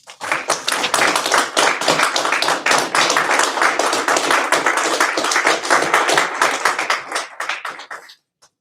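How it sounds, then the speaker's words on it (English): Fire academy recruits at their graduation ceremony give a loud, sustained round of clapping for their families, dense and steady for about eight seconds before stopping abruptly. "just stand up and thank your families with a round of applause"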